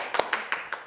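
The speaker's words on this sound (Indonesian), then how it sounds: "Tepuk tangan dong, guys." A few sparse hand claps sound close by, about four separate slaps in under a second, in a small podcast room.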